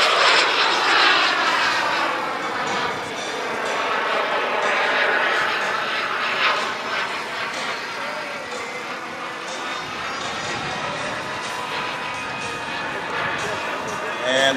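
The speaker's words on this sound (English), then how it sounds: "And Joe on a nice flyby with the 810" Thunderbolt model airplane with an 810 engine making a flyby at a model aircraft event: a loud, continuous engine drone with shifting pitch passes close by, while a commentator talks over it.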